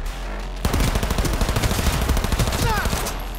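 Rapid automatic gunfire in the video game Cyberpunk 2077, a dense burst of shots starting abruptly after a quiet moment and continuing loudly, with a brief metallic ring near the end.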